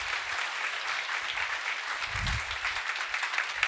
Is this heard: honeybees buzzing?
no